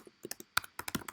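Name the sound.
typing on a computer keyboard to rename a file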